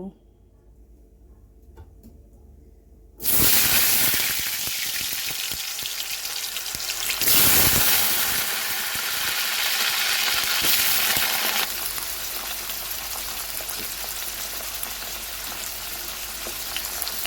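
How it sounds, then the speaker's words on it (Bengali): Potatoes drop into hot oil with salt and turmeric for a Bengali echor aloo curry. After a quiet start, a sudden loud sizzle erupts and keeps hissing steadily, swelling again as the pieces are stirred. "প্রথমে আলুটাকে নুন হলুদ দিয়ে ভেজে নেব"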